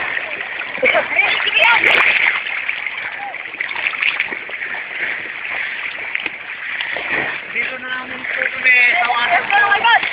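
Water from a waterfall rushes and splashes continuously, fairly near and loud, while people talk and call out over it.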